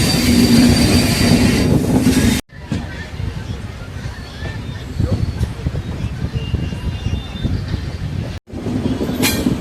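Venad Express passenger train passing on rail, loud rumble of railcars and wheels with squealing and clickety-clack, cut by brief gaps, with crowd babble and talk nearby on the platform.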